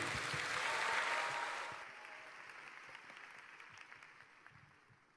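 Church congregation applause greets a preacher at a youth worship gathering, a loud burst of clapping that peaks early and then thins into lighter scattered claps.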